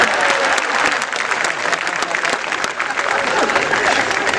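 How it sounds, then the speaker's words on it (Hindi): Steady, loud audience applause at a Hindi kavi sammelan poetry gathering, a dense, continuous clapping from a large crowd with no pauses. "तालियां बिना कहे नहीं बजा रहे"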